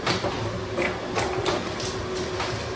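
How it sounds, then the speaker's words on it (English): A tabletop tire-changing machine clamps down on a scooter wheel, giving a steady mechanical whir broken by several sharp metallic clicks and knocks, close by with no talking. "We'll get this mounted up in the machine, twist the clamp down the tire, or the wheel, I should say."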